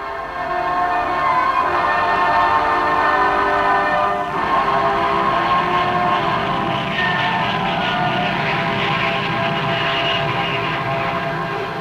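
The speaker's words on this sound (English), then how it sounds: "As the Handley Page Victor takes the air, we see a new shape rise in the sky." A Handley Page Victor jet bomber of the RAF's 55 Squadron taking off, producing a loud, continuous roar with a whining tonal edge that holds steady throughout.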